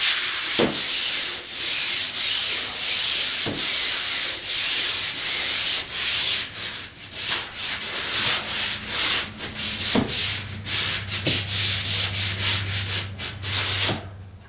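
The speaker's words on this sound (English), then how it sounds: "I got most of it off, but you still need to sand this a little bit before you prime it." Sandpaper rubbing across a ceiling to smooth off leftover popcorn texture before priming, a steady close scraping that runs continuously with brief knocks and pauses between strokes.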